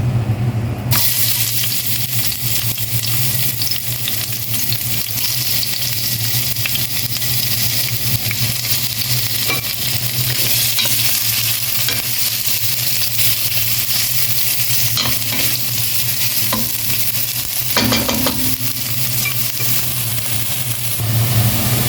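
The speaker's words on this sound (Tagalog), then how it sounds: "Next natin na igisa yung ating sibuyas." Onions sautéing in a pan for Arabic chicken bukhari rice, a loud, constant sizzling hiss that runs steadily throughout with occasional faint clinks and stirring scrapes.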